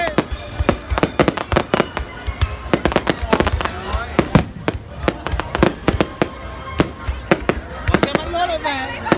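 Fireworks going off at a crowded outdoor display, with sharp bangs and crackles in quick, irregular bursts, some near and loud, with people chattering throughout.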